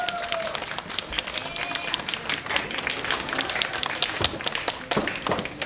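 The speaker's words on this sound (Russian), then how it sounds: "Еще раз аплодисменты." Sustained audience applause, many hands clapping continuously at fairly even loudness, with a few louder claps standing out.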